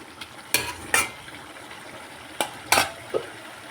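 Water drawn out of shrimp and ash gourd cooks down in a pan, with a soft steady sizzle broken by several sharp scraping stirs and utensil knocks against the pan.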